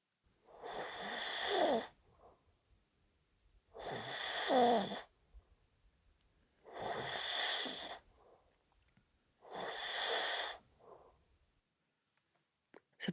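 Human snoring rises and falls in four slow, evenly spaced rasping breaths, each drawn-out inhale separated by quiet pauses, close and fairly soft.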